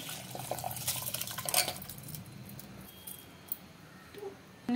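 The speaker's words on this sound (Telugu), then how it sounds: "ఇప్పుడు ఇందులోనే మనం నానబెట్టుకున్న మిల్లెట్స్ని వేసేయాలి." Soaked millets tipped into a pan for a coconut milk millet pulao and stirred, giving busy metallic scraping and clinking of a utensil against cookware, close and moderately loud, with a brief sizzle and no talking.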